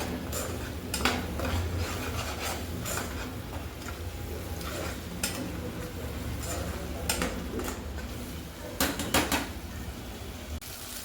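A spoon mixes spices and homemade chutney in a metal pot, giving repeated scraping and clinking strokes with sharp taps scattered throughout, close and moderately loud over a steady background hum.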